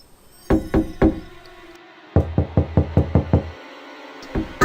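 Repeated knocking on a toilet door: a first group of three sharp knocks, a pause, then a faster run of about eight close, loud knocks, and a couple more at the end.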